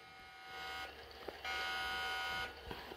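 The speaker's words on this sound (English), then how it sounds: "We need to go check that alarm." An alarm buzzer sounds indoors in a steady electronic tone that drops out and returns in long bursts, moderately loud with no talk.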